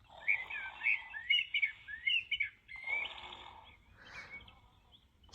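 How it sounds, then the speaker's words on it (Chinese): Bird call sound effect from a children's sound book, a series of bright chirps and tweets in quick bursts, clear and close, fading into softer calls near the end, no talk. "猪大哥伴随着鸟叫声，呼呼的睡着了。"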